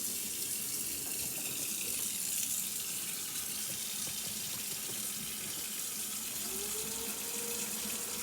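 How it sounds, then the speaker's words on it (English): Hot tap water runs over a gastrostomy feeding tube being rinsed in a sink, a soft, continuous hissing flow at a low, steady level with no talking. "You can rinse it out with hot water."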